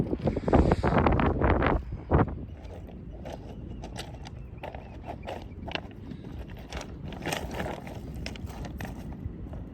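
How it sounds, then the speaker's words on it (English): Strong wind buffets the microphone on a seashore during an evening spring tide, loud rumbling gusts in the first seconds easing to a steadier rush with scattered knocks and rustles. "I'm doing my absolute best to keep the noise, wind out of the video."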